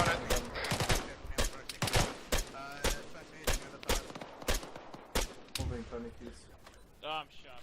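Arma 3 gunfire crackles in sharp, irregular bursts of close rifle shots across the whole stretch, some shots nearly back to back, with a voice talking over the firing and radio-style chatter near the end.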